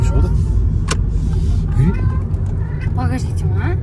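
A cat gives a short meow near the end, heard over the constant low rumble of a car interior while people talk.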